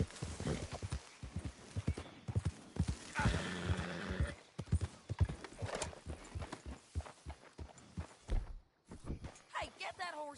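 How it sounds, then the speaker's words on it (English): Horse hooves clip-clop and a horse whinnies in a Western-style video game, with frequent in-game dialogue from several characters over the steady hoofbeats. "Hey, get that horse out of here."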